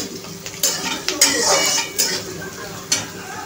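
Onion frying in a pan for Maharashtrian pithale, stirred with a utensil: scattered metallic scrapes and clinks over a soft steady sizzle, close and moderately loud, with no speech.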